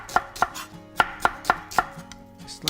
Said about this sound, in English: Slice it roughly like that